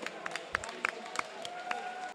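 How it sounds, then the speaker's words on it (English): A small crowd claps at a robot combat event, scattered individual claps ringing out sparsely over a low hum of the venue rather than a full ovation. "a huge round of applause for our Roboteers"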